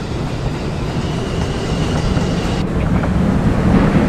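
A New York subway M shuttle train, an R160A, R143 or R179 car bound for Myrtle Avenue, rumbles loudly along the rails with a steady roar and faint wheel clatter, growing slightly louder toward the end.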